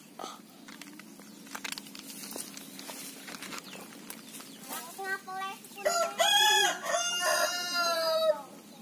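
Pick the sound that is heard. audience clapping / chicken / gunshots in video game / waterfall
chicken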